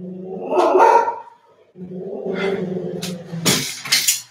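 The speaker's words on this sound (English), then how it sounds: "My dog is barking." A dog barks indoors, close and loud: a run of vocal barks, a brief pause, then more sustained barking ending in a few sharp, high yelps.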